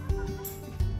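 Chickens in a clean coop with nest boxes on a small farm in Värmland, Sweden, giving a brief low fowl call with a couple of soft clucks close by in a one-second burst.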